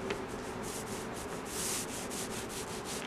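A paintbrush spreads old paint across wooden shelves in repeated soft, rhythmic rubbing strokes, close and fairly quiet with no talk.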